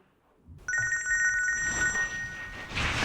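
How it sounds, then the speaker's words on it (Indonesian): After a short quiet moment, a telephone starts ringing with a steady electronic trill, loud and close, continuing to the end. "Saya angkat telepon dulu."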